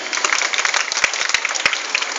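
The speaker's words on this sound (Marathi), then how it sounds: "पहिल्या प्रथम जोरदार टाळ्या स्वरासाठी." An audience at a birthday magic show claps and applauds, a dense, bright patter of many hands with a few sharper claps standing out, steady and fairly close.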